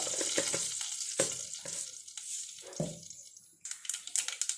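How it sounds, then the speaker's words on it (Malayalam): Mustard seeds and fenugreek splutter in hot oil in a pan on the stove, a close, dense crackling sizzle with sharp pops scattered through it, a brief lull, then a fresh burst of popping. "കടുകും ഉലുവായും പൊട്ടിയിട്ടുണ്ട്"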